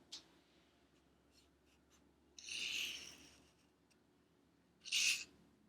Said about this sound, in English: This is how you write an uppercase T.